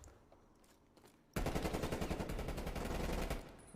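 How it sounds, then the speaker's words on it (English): Rapid automatic gunfire erupts suddenly in an esports match between Riyadh Falcons and Royal Ravens, loud, sustained bursts following a quieter stretch, with no talk over it. "there it is, the gunfire"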